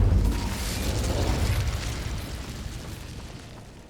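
Incendio fire spell cast in Hogwarts Legacy, a loud burst of flame that bursts at once and then rolls on as a roaring, crackling whoosh, slowly dying away with no voices over it.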